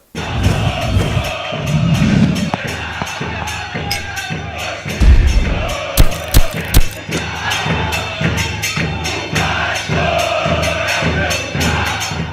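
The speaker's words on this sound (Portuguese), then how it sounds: "Tudo isso depois da vinheta que rodou agora." Intro jingle for a Vasco football fan channel, blending music with loud stadium crowd noise, chanting and cheering, including a few sharp percussive hits midway and a continuous dense roar throughout.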